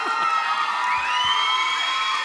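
Graduation crowd at the Capital Area School for the Arts Charter ceremony cheering and whooping, with overlapping shouts and whistles rising in a loud, continuous wash of voices from a large hall audience.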